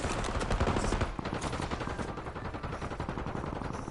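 Rapid automatic gunfire from Call of Duty: Warzone on Rebirth Island in Resurgence mode, loud and dense bursts that continue through the clip with little pause.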